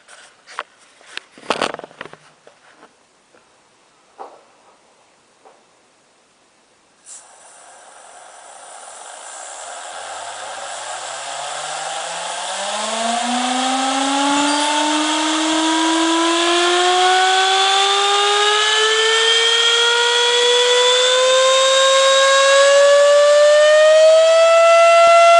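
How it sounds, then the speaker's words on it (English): Multi-stage Tesla turbines, set to spin in opposite directions, start with a few sharp clicks and taps, then spin up into a rising, siren-like whine that keeps climbing in pitch and grows loud and sustained. "This turbine is going to spin in this direction, and this turbine is going to spin in that direction."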